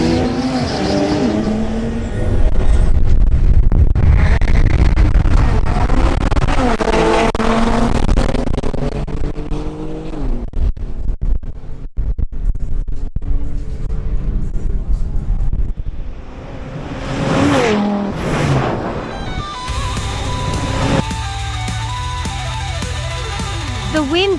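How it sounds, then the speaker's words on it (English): A Porsche 911 Turbo S and an Audi RS3 launch in a drag race, engines roaring and rising through gear changes over heavy wind buffeting. A commentator talks over part of it. "Next up, Juan Carlos Garcia in his Porsche 911 Turbo S faces off against Pedro Mogollon in his Audi"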